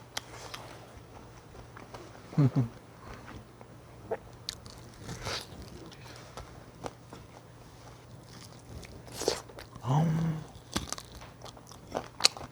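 Close, sharp crunching bites and chewing on a crispy spicy fried chicken leg come in a few loud bursts separated by quieter munching, with no talking.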